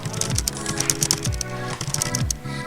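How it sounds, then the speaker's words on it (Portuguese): Computer keyboard keys clatter in quick, irregular clicks while Lethal League is played, mixed in with loud, rhythmic electronic game music and thumping beats. "Eu sei que vai estar barulho do teclado"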